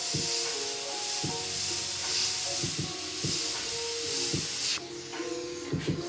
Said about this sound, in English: it's spraying a very thick, white, opaque paint